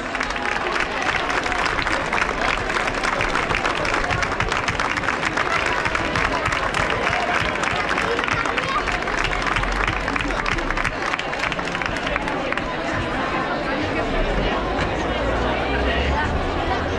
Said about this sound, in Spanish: Un fuerte aplauso para estas campeonas.